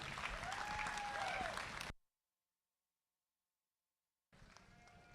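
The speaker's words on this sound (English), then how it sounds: "Give them a round of applause one more time" An audience claps steadily and loudly at a junior showmanship event, then the sound cuts to silence before clapping resumes more faintly near the end.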